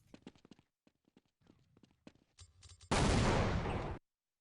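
A Desert Eagle fires in Counter-Strike 1.6. Light, scattered clicks and footstep-like taps lead into one loud, harsh blast of roughly a second near the end, followed by silence.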